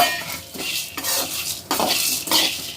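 Urad dal and coriander seeds roast in a dry pan while a spoon stirs them, producing close scraping strokes and metallic clinks in a few bursts with a light crackle beneath.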